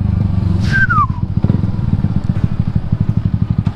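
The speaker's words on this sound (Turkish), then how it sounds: "Böyle dar alanlarda güzel oluyor gaz vermek." A motorcycle's exhaust barks and crackles as the throttle is blipped in a narrow passage, loud and close, settling into a rapid rhythmic idle thump, with a brief high squeal near the start.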